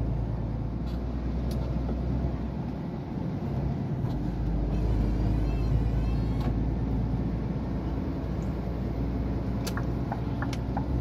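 A loaded Scania truck rolls along the road, its engine and tire rumble forming a steady low drone for the whole stretch, with faint intermittent clicks and squeaks from the cab, and no one speaking.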